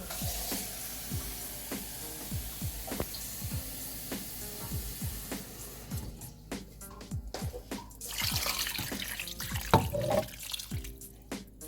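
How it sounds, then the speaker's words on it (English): Water pours into a pot of Nigerian egusi soup cooking on the stove, a steady splashing stream over a sizzling simmer, with the flow surging louder toward the end and no talking. "so I'm going to add water to it"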